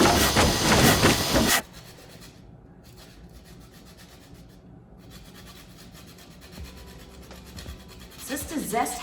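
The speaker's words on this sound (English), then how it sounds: "Just to zest 1/2 a lemon." Half a lemon is grated against a handheld zester, a loud burst of quick raspy scraping strokes up close that stops abruptly, followed by quiet kitchen background and a faint rustle near the end.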